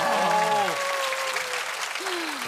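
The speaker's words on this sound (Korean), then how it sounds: "박수 한번 주시면" Studio audience at a Korean comedy show breaks into steady applause, filling the whole moment with dense clapping while a few voices speak briefly over it.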